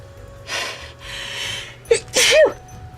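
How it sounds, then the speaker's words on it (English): A single loud sneeze bursts out after a couple of sharp breathy inhales, close and abrupt. "I'm going to sneeze."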